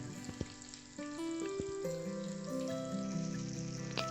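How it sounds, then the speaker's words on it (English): Fish pieces coated in corn flour masala fry in a pan over a low flame for a south Indian fish fry, giving a steady, soft sizzle close by, with no voices. "We have to fry the fish pieces in low flame"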